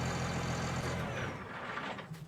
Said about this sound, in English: Back and start using my tractor.